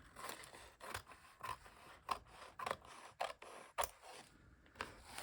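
Scissors snip along the edges of a paper page in an altered book, giving a series of quiet, close crisp cuts and rasps in an irregular rhythm.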